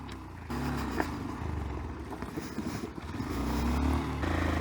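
Honda Monkey 125 motorcycle riding slowly between rocks on a trail, its engine a steady close rumble that rises slightly toward the end, with light clatter over uneven ground.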